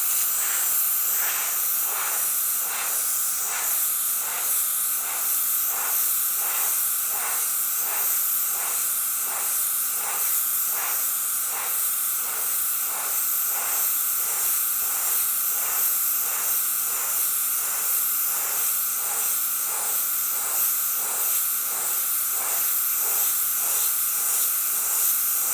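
An airbrush blows a steady, continuous hiss of air to dry freshly sprayed paint, close and even in level throughout with a faint rhythmic flutter, no voices.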